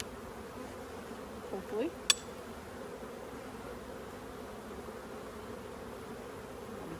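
Faint, steady buzzing of honeybees around full hive frames during an open hive inspection, a low continuous hum with a brief voice and a short knock partway through.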